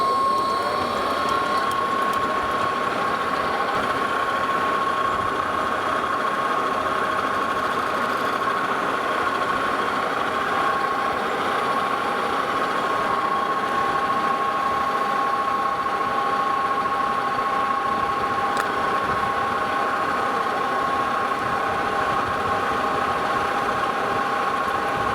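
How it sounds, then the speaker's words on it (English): A lathe or mill takes a steady facing cut across the top of a freshly bandsawn steel part for a steam locomotive connecting rod bearing wedge screw, a continuous close mechanical hum and whir running throughout with no speech. "so we'll face the top of that and speed it up a little bit now"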